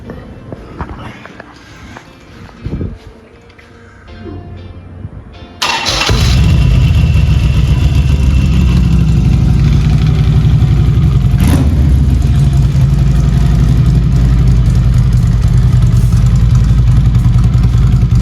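A 2018 Rolling Thunder custom bobber motorcycle engine cranks and catches suddenly after a few seconds of quiet handling noise, then settles into a loud, steady, throbbing idle right up close for the rest of the time.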